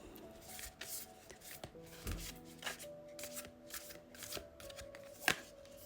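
Tarot cards shuffled in a cramped space, a soft continuous riffling and rubbing of card stock with occasional taps and light knocks, faint and close.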